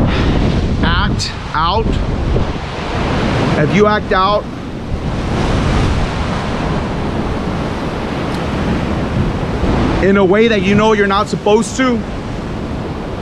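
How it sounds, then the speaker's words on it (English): Ocean waves and gusty wind roar continuously at a waterside, loud and broadband, while a person speaks over them in several bursts. "Hopefully you guys can hear me with this beautiful water in the background."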